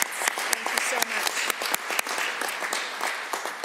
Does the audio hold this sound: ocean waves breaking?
no